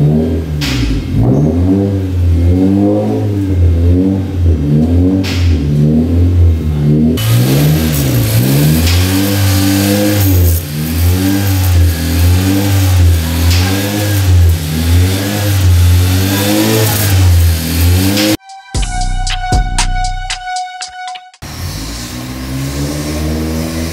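A 2024 Honda Civic RS Turbo fitted with a Datatec air filter, revved repeatedly in loud, close rising and falling bursts over a steady idle, with a brief quieter cut before the revving resumes.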